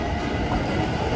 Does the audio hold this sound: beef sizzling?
no